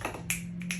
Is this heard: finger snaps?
yes